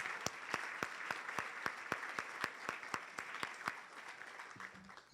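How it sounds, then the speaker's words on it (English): Steady applause from a conference audience, many hands clapping in a dense, continuous patter with sharper individual claps standing out, fading slightly toward the end. "please give our sponsors a big round of applause"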